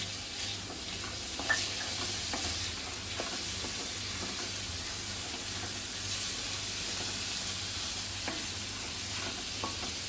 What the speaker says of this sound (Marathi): आलं लसूण पेस्ट सुद्धा कांद्याबरोबर शिजवून घ्यायची.